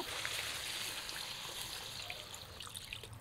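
Water is poured into a pot of small-chicken curry to make broth, a steady faint trickle and splash running continuously and close by with no speech.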